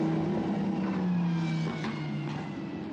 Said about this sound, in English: Gets the signal, and now accelerates off down the pit lane.